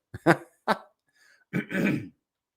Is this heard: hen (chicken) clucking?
no